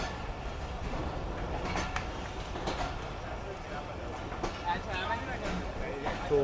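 A delayed Khyber Mail passenger train pulls out of Rahim Yar Khan railway station, its steady low rumble and rolling wheel noise filling the platform, with crowd chatter and voices talking over it throughout.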